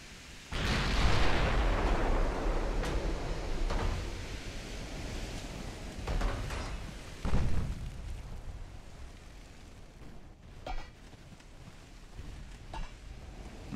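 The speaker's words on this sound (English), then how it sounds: "guns firing on one of his battleships" Battleship guns firing in the naval game Ultimate Admiral: Dreadnoughts: a heavy booming salvo followed by rumbling, then several further distant thuds and cracks over a constant sea-like wash.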